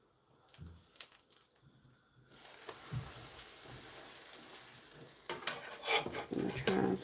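A pancake is flipped in a pan with a few light clicks and scrapes of utensils, then settles into a steady sizzle of frying, punctuated by further clinks and taps near the end.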